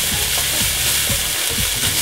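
Meatballs and minced garlic fry in a pan, giving a loud, continuous sizzle up close, with periodic stirring thumps running through it.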